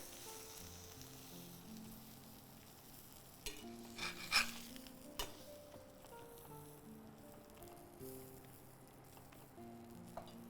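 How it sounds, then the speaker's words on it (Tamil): Fish wrapped in banana leaf fries in a pan, a soft steady sizzle with a cluster of louder crackles and scraping as it is turned over, close and quiet, and no talking. "நான் இந்த மீனை கேர்ஃபுல்லாக திருப்பி போட போகிறேன்"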